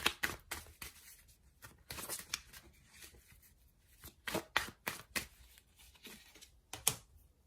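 Tarot cards shuffled and drawn by hand, a close run of crisp flicks, riffles and soft slaps in irregular bursts, with no talking.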